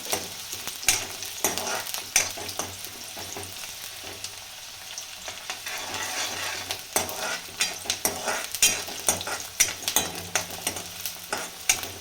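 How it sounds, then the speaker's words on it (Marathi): Onion fries in a pan for a traditional tandulja leaf vegetable dish, a steady sizzle running throughout with frequent scraping stirs and clinks of a utensil against the pan. "कांदा टाकून घेते पहिल्यांदा. कांदा थोडा तळू द्यायचा चांगला."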